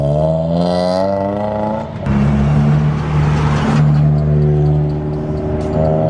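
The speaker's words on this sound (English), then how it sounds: "So quick test drive." A Honda Civic EK with upgraded rear suspension on a short test drive, its engine droning loudly with rising and falling pitch as it accelerates and shifts, heard from inside the car without talk.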